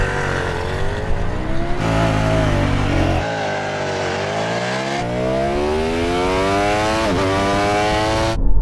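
Ducati motorcycle and Audi car racing on a track, engines loud and continuous with rising revs through gear changes, sustained acceleration for the whole stretch, one gear shift clearly near the end.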